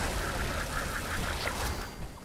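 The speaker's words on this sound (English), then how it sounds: "Get these turkeys out of here" Turkeys in Fallout 76 gobble in a rapid series of repeated honking, quacking-like calls, moderately close and fading toward the end, with no talk over them.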